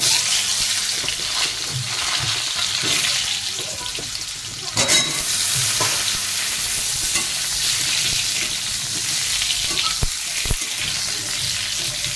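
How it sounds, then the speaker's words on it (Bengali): Potatoes frying and being stirred in a pan, a steady close sizzle with scraping stirs and a few sharper knocks throughout, no talking. "ডিমগুলো ভাজা হয়ে গেছে, তুলে নিয়ে আলুটা ভাজবো।"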